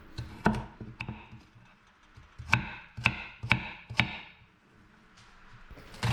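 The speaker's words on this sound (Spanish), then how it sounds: "La mitad de la zanahoria le voy a quitar un poquito la piel también. Y la voy a cortar en cuadritos." Knife chopping a peeled carrot into small cubes on a cutting board: about ten sharp, close taps in uneven bursts, loud and alone with no talk, the strokes fading toward the end.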